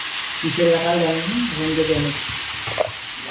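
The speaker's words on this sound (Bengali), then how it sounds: "কড়াইতে তেল দিলাম তেলটা গরম হয়ে গেল এখন আলু পেঁপেটা দিয়ে দিলাম দিয়ে একটুখানি ভেজে নেব" Potato and papaya pieces frying in hot oil in a wok, a constant broad sizzle running throughout, with someone talking over it and a brief clank of a spatula near the end.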